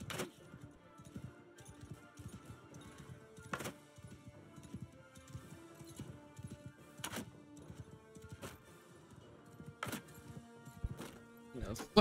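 Horse hooves gallop in the medieval fantasy game Realm of Thrones, a steady rhythmic clip-clop running throughout alongside other game sounds and occasional sharp impacts.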